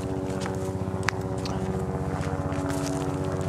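Helicopter flying overhead in the distance above open grassland, a steady rhythmic rotor thump with a droning engine hum, continuous and moderately loud, a few faint knocks nearby, no talk.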